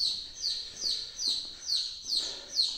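Newly arrived baby chicks shipped from a hatchery peep in a steady series of about six high, bright chirps, close by and with no talk.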